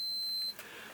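A multimeter set to continuity gives a steady electronic beep while testing a fuse in a broken TV, one clear tone that holds for about half a second and then stops.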